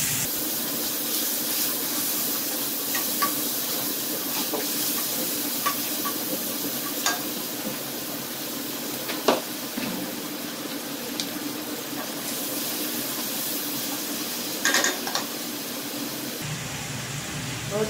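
Sausage sautéing in oil in a pot, a steady close sizzle with occasional stirring scrapes and clinks, continuing for the whole stretch with no talk.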